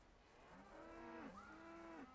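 Cows lowing in Wasteland 2, a few overlapping bovine moos rising and falling over about two seconds, fairly faint and close together.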